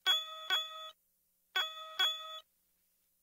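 A bright electronic bell from a 1994 VTech Little Smart Talking Alphabet Picture Desk toy chimes in two quick double rings, each clear and ringing briefly before cutting off, with silence between.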